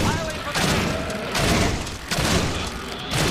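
Fire spell cast at a dragon in a fantasy action game, a series of dull booming thumps and crackling bursts over a steady game soundscape, with a voice talking.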